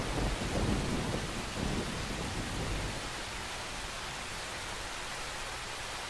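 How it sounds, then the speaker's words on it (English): Rain and rolling thunder from a storm in the Roblox video game: a loud, broad rumble opens and gradually subsides into a steady, hissing downpour. "Lightning strike and the thunder."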